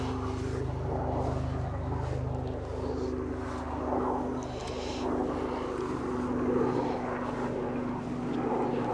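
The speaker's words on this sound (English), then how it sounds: "And there's the chopper." A helicopter passes over an open harvested field, its engine and rotor drone steady and fairly loud throughout, with wind buffeting the microphone outdoors.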